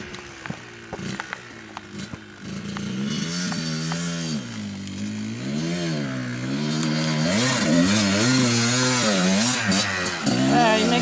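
A Kawasaki KDX dirt bike climbs the rocky Porcupine Rim Trail in Moab, its two-stroke engine revving up and down in rising, wavering bursts, growing louder and closer, with a few clicks at the start.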